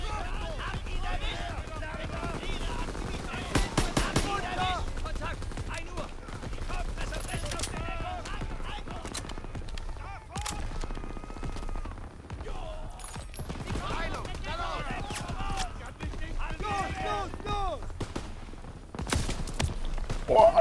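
Rapid bursts of gunfire in Call of Duty WWII crackle in the background, with automatic volleys and single shots, under someone talking excitedly.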